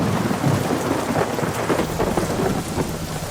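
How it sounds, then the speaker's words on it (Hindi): Heavy rain pours steadily in a village, with rolling thunder rumbling underneath throughout a dense, continuous wash of noise. "बलिया गांव में तेज बारिश हो रही थी।"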